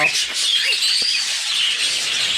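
Caged birds chirp and tweet in a dense, continuous chorus of high, bright calls, steady and moderately close throughout with no pause.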